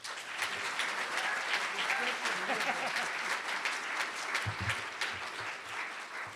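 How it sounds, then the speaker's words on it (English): Applause for Governor Jay Inslee at an e-cigarette bill signing fills the room as a steady, moderately distant wash of clapping, with some voices faintly mixed in throughout. "Give a big round of applause to Jay Inslee."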